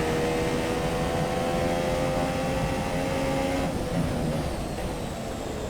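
An F1 race car in the video game F1 2017 at Bahrain, engine droning and climbing steadily as it launches and accelerates, its tone shifting partway through, moderately quiet and continuous with no talk.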